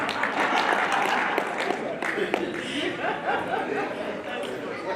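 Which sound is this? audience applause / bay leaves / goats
audience applause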